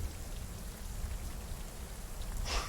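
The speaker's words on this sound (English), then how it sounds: "You still have a wild storm raging all around you." Storm ambience with steady heavy rain hissing and pattering on surfaces, backed by a low rumbling wind, continuous and fairly faint, with a brief brighter splash near the end.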